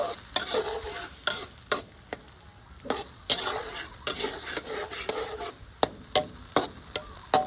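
A stir-fry with soy sauce, oil and a splash of water sizzles softly while a spatula scrapes and taps the pan in quick, repeated strokes, close by with no talking.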